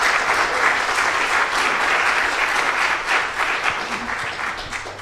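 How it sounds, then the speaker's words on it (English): Church congregation applauding at a Sunday worship service, a dense, steady wash of clapping that holds strong for about five seconds before easing slightly at the end. "I think that deserves some applause."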